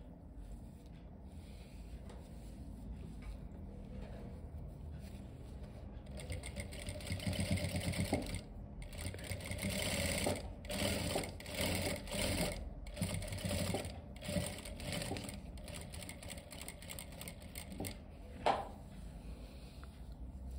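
A sewing machine stitches along the folded belt of formal trousers, running in uneven bursts of rapid clatter with short pauses between runs, fairly quiet and close.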